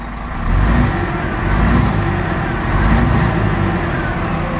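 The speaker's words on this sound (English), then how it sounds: "I'm just gonna give it a couple of revs." A large 2019 Scania R500 truck engine idles loudly, then rises in a few steady revs that hold and ease back, close by with no voices.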